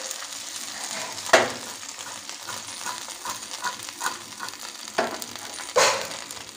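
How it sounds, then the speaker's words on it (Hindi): Green chillies fry in mustard oil for a pickle: a low, even sizzle with several sharper scraping bursts as they are stirred, nearby and with no talking. "अब हम तेल में मिर्चे को डाल दिए हैं, अब थोड़ा सा हम इसको फ्राई करेंगे।"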